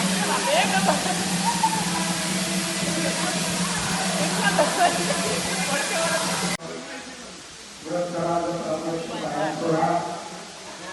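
Kapildhar waterfall roaring as a continuous broad rush of falling water, loud and steady, with someone speaking over it throughout.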